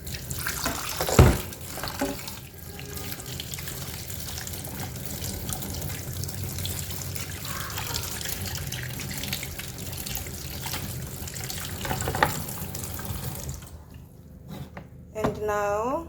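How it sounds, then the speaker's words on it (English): A washing machine dispenser tray is rinsed under a running tap, giving a continuous loud rush of water with splashing and clatter near the sink. A voice speaks at times over it. "You rinse the tray. Rinse it very good,"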